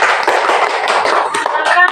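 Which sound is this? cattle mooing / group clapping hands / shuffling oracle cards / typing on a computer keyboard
group clapping hands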